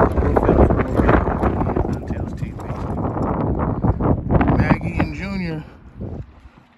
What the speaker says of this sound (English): fighting the wind